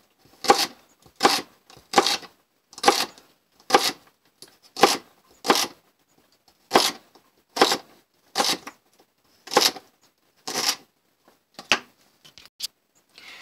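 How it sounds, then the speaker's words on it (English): Celery stalks chopped small at an angle with a knife for egg salad, a steady series of about fifteen crisp, close cuts against a board, evenly spaced with brief pauses between them and no talking. "I like to cut my celery at an angle when I'm doing small pieces."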